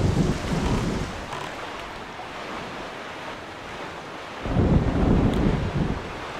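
Stormy weather in The Legend of Zelda: The Wind Waker, with a steady wash of rain and rolling sea noise and deep rumbling swells of thunder at the start and again near the end, with no voices.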